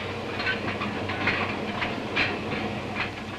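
A mid-1950s mail train runs on its rails with a steady rumbling roar and periodic clickety-clack beats, loud and close throughout, with no voices.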